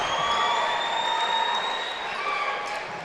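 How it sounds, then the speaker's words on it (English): College basketball crowd at an NCAA men's tournament game between Swarthmore and Brooklyn, a steady wash of cheering and applause, moderately distant, with whistle-like tones riding over the noise and slowly easing off. "Crowd loving that one."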